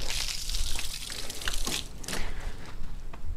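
Water sloshes and trickles steadily as a wash mitt is rinsed in a bucket of soapy water during exterior detailing of a Camaro ZL1 1LE, with small splashes and drips close by and no voices.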